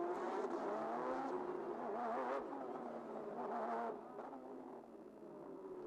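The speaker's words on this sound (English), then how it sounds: "Cars coming round the final couple of corners to take their positions" Porsche Carrera Cup Asia race cars at the Ningbo circuit rounding the final corners toward the grid, a continuous droning engine note rising and falling as cars pass at moderate distance.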